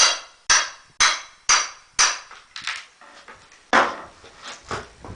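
A hammer strikes a wooden pallet during dismantling in a series of sharp, loud blows, evenly spaced about every half second at first, then quicker, softer and less regular, with a few ringing knocks.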